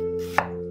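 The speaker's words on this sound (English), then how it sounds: "And then we'll cut some white onions into some half moons." A single knife stroke slices a white onion into half moons, one short, crisp cut landing on a board over a steady background hum, close and alone.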